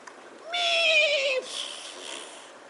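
A horse gives a single clear, high neigh lasting about a second, with a quivering whinny that falls away into a softer breathy tail; no other sounds compete.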